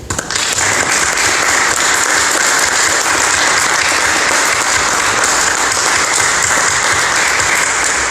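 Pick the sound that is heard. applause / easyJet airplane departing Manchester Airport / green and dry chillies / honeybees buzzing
applause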